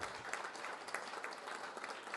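Steady audience applause at an MIT Enterprise Forum event, fairly faint and distant, a continuous patter of many hands with no talk over it.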